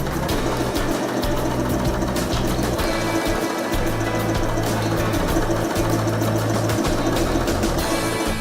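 A Janome Skyline S5 sewing machine runs steadily while stitching, its fast, even mechanical chatter continuing unbroken and close by for the whole stretch, with no voice over it.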